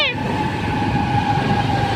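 A light rail (LRT) train rumbles past nearby with a steady mechanical drone and a high squealing tone, while voices talk over it.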